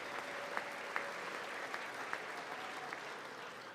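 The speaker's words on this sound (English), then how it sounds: "you can stop clapping now" Audience applause at a State of the Union address, a steady wash of clapping with a few sharp louder claps standing out, moderately distant in a large hall.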